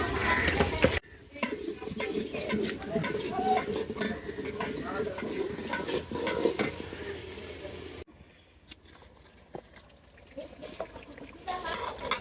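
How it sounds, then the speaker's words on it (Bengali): Duck meat cooking on a clay stove is stirred with a utensil, giving repeated scraping, clinking and soft sizzling up close, while people talk in the background. "মাটির চুলায় আজকে রান্না করতেছে হাঁসের মাংস"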